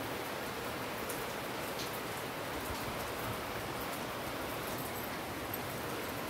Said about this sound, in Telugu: చాలా సంతోషంగా ఉంది వర్షం పడేటందుకు